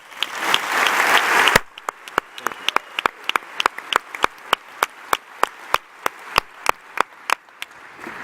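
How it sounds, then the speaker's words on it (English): Theater audience at the 43North finals at Shea's applauding, a dense burst of clapping that cuts off abruptly, followed by a slow series of single sharp claps spaced evenly apart. "Let's give them a round of applause."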